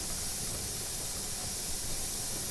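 Steady, loud steam hiss streams from the vent of a pressure canner, a continuous bright rushing noise that holds evenly throughout with no talking over it.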